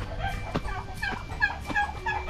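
Chickens and other farm fowl on a Philippine farm, with several short clucks and gobble-like calls repeating at mid distance over a steady outdoor background.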